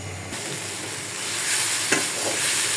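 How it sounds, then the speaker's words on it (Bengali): Jute leaves go into a pan to cook, producing a steady, fairly loud sizzle that swells slightly with a few soft scrapes of stirring, with no voices. "এখানে আমি অল্প করে একটু পুঁই শাক বাগার দিয়ে দিলাম, আর এখন দিব পাট শাকটা"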